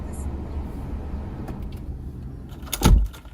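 A car trunk that will not open is struck, one sharp loud thump standing out near the end above a low rumble of road and cabin noise.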